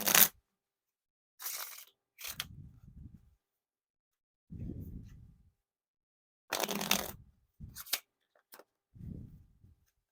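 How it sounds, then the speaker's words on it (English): Playing cards are riffle shuffled in several short bursts of rapid fluttering clicks, with soft bridging rustles and quiet pauses between, close up. "Now time for the riffle shuffle or bridge shuffle."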